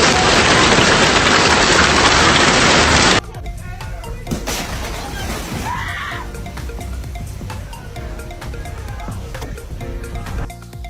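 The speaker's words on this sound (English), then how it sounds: "Powerful hailstorm pounding Munich, creating a terrifying scene." A powerful hailstorm pounds Munich: a loud, dense roar of hail hits for about three seconds, then gives way to a quieter, continuous clatter with scattered sharp knocks and cries in the background.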